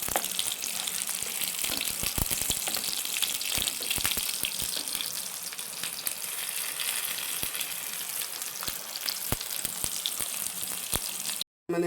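Zinger puffs deep-frying in hot oil give a dense, steady sizzle with scattered sharp pops and crackles throughout, loud and close, with no voices.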